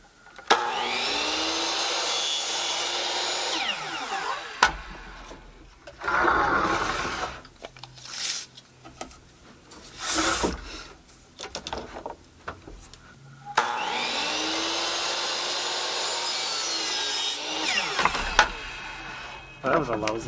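A power saw cuts wooden trim boards for a bedroom. Two long, loud, whining cuts at the start and end frame a quieter middle stretch of knocks, handling noises and brief rustling.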